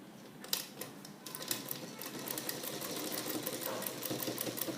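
Domestic sewing machine running a diagonal stitch at close range gives a steady, rapid stream of clicking stitches that continues throughout, fairly soft.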